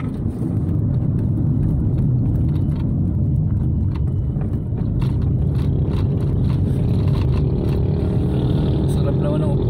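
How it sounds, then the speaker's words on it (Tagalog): A motorized tricycle riding along the Lukban bypass road, a loud, continuous rumbling engine drone with road and wind noise throughout, heard up close from the rider's seat. "Sarap naman ang upo ni Manong Boyan sa tricycle"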